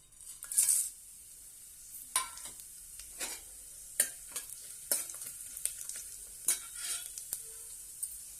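Cumin, black pepper, cloves, cinnamon and bay leaf sizzle in hot oil, opening with a brief crackling burst. Regular stirring scrapes and taps follow over a quiet, steady fizz.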